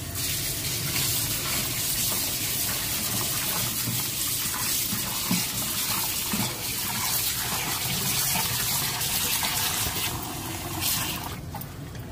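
Bocha fish being washed with rock salt under running water in an Andhra village kitchen, a continuous loud gush and splash with sloshing handling, no speech, cutting off near the end.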